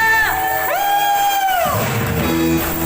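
A church congregation at an Easter service whoops and shouts in praise, with one long rising voice standing out over a loud, close crowd roar that gradually settles into murmuring.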